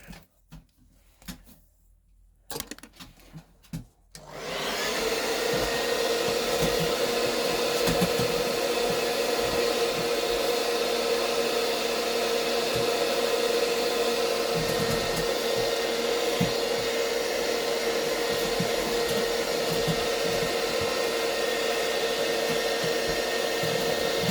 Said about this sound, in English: And then we get good old faithful hairdryer.